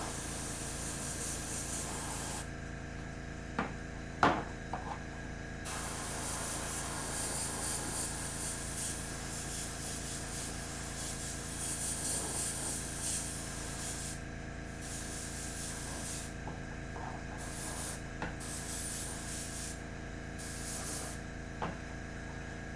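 Airbrush hissing steadily as it sprays paint onto Warhammer Warcry terrain, a continuous airy stream with brief breaks and a few small clicks, close and alone without talk.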